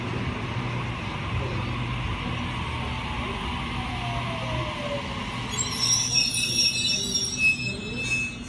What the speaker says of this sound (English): Waratah's at A60 now departing Hornsby via the city service.